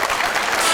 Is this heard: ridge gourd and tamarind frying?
no